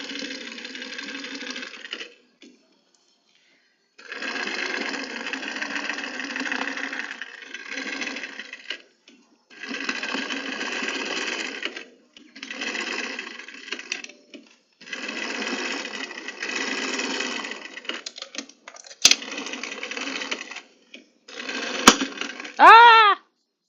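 A sewing machine stitches a fabric strap in several rapid mechanical bursts separated by pauses, close and loud, with a few sharp clicks toward the end.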